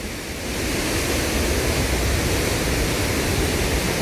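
A waterfall in the Phu Khao Khwai hills pours with a steady, dense roar, close and loud, with no voices.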